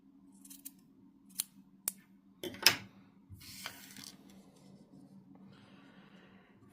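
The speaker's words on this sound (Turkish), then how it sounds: "çiçekleri de diktikten sonra buradaki ipi de kesebilirsiniz" Scissors snip through crochet yarn on a small hat made for a keychain or bag charm: a few short, crisp cuts, close and isolated, then a longer rustle against quiet background hum.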